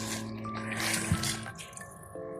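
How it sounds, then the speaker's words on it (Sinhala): Water pours and splashes into a small garden fish pond during cleaning, a fairly quiet continuous trickle with a brief splash partway through and a faint hum behind it. "අනිකට අපි වතුර එක දාගමු."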